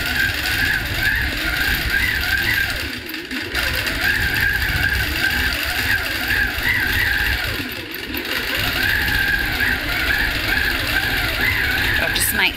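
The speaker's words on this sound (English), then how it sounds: "We're actually stitching out our design" A sewing machine stitches out a quilted wedding ring bed runner design, a steady mechanical whirr with rapid needle ticking that runs almost continuously, briefly easing around two pauses before picking back up.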